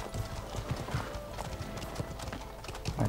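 Horse hooves clopping in a steady walking rhythm in the medieval video game Life Is Feudal, with a whinny, heard fairly close amid other game sounds.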